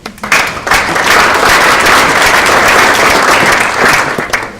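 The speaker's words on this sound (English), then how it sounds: "Round of applause for Sean." An audience at a university sports-and-society talk breaks into steady, loud applause for the event's MC, a dense wash of clapping that holds for several seconds before easing off.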